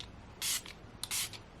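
Catrice Prime and Fine fixing spray hisses from a pump bottle in two quick, close bursts, the first a single puff and the second a double puff, with near silence between them.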